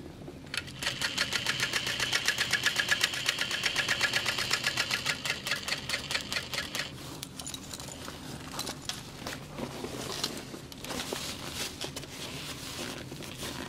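A sewing machine top stitching through thick layers of a large tote bag, running in a long steady burst of rapid close stitching and then shorter, more halting runs with pauses between.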